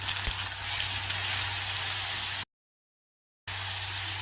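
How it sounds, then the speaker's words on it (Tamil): Dried chillies, curry leaves and masala sauté in oil with a bright, steady crackling sizzle that cuts out for about a second, then resumes just as strongly. "காஞ்ச மிளகாய் கருவேப்பிலை மசாலா சேர்த்து வதக்கிக்கலாம்"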